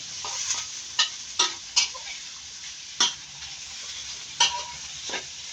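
Pork neck fries in a pan with garlic, a steady bright sizzle close by, with about six sharp clicks and scrapes of a utensil stirring against the pan.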